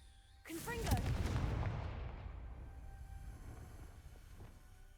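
The Confringo spell is cast in Hogwarts Legacy, a sudden loud fiery blast that rumbles and crackles before slowly decaying into a low roar, preceded by a spoken voice.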